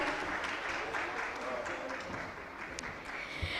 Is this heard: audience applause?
yes